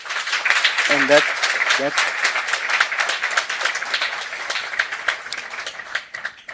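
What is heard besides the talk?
audience applause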